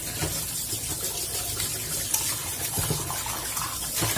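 Tap water runs steadily into a kitchen sink while dishes are washed, a continuous close splashing gush with small clinks and no talk.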